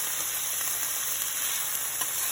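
Broccoli florets sauté in a pan on a stove turned down to medium, giving a soft, even sizzle with no talking.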